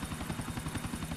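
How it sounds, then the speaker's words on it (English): A helicopter in GTA IV flies close by, its rotor giving a fast, steady, loud chopping throb over engine noise. "I will fly chopper."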